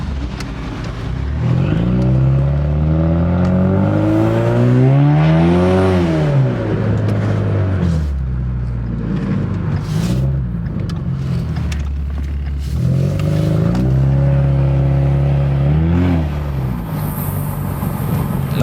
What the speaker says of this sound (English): Now my car is running better after that oil change though.